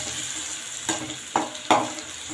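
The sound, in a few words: stirring ground paste with fenugreek and curry leaves in pan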